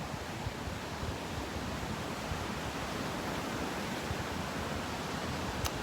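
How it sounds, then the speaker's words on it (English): Ocean surf roars as a continuous, broad wash of waves, loud and steady with no talking. "Sounds like you guys can hear the waves"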